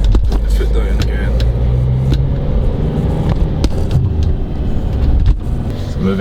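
A 2019 Vauxhall Mokka X Ecotec D diesel SUV accelerates, its engine a steady low drone heard from inside the cabin with road rumble, while someone talks over it.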